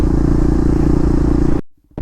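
KTM Duke 390 BS6 motorcycle with a loud aftermarket exhaust, a close, harsh, steady engine roar that cuts off abruptly near the end, followed by a short faint burble.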